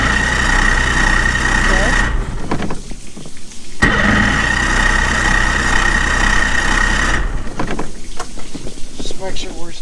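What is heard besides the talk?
new Tracker boat engine started and idling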